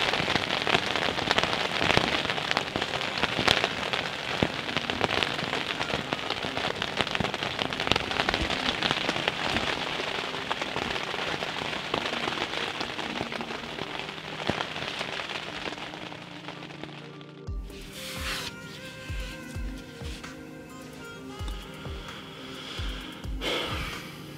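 Rain falls steadily, a dense, continuous hiss of drops hitting surfaces, loud at first and then thinning to a lighter patter near the end.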